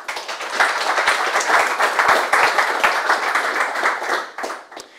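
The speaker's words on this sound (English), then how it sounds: "So big round of applause, please, and enjoy the talk." Audience at a technical firmware conference talk claps in a dense, sustained burst of applause that swells, holds steady, then thins out into a few scattered final claps.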